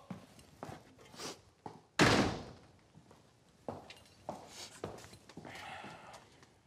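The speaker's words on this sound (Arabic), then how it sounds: "وقف الباب وراك." A door swings shut with a solid thud in the middle of a room, preceded and followed by softer knocks and shuffling footsteps, all fairly quiet with no talking.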